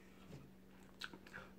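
A few quiet crunching bites into crispy flour-coated fried chicken skin, soft close crackles with faint chewing and no talking.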